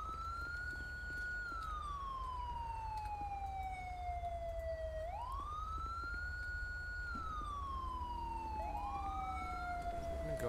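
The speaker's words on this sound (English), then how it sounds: "I'm gonna go ahead and turn off my sirens real quick." A police car siren in the GTA V LSPDFR mod wails in long rising and falling sweeps over a steady engine rumble, close and continuous with no talking.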